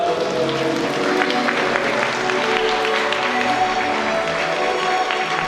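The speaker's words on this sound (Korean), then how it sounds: "박수 보내주시기 바랍니다." Wedding guests applaud during the main ceremony as the groom's mother lights a candle: continuous, full crowd clapping that stays level throughout, with a faint ceremony murmur beneath.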